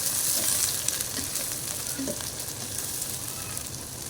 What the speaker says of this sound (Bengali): এলাচ, দারচিনি, 1 কাপ পরিমাণ পেঁয়াজ দিয়ে একটু লাল লাল করে পেঁয়াজটা ভেজে নেব।